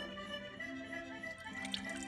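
Lemon zest juice, boiled zest and filtered water, poured through a strainer, giving a soft steady trickle with faint drips throughout.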